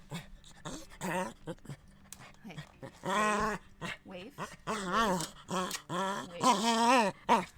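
A dog in the RedM Western roleplay game growls and whimpers in a run of rising and falling whines and rough groans, fairly close and moderately loud, while a person briefly speaks over it.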